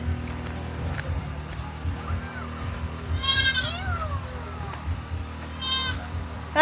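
Goats bleat outdoors, a couple of wavering cries rising over a busy background of movement and faint voices, with another short bleat near the end.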